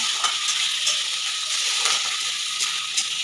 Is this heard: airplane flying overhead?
no